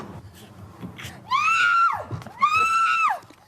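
Two long, high-pitched screams ring out one after the other, loud and close, preceded by quieter shouting and movement.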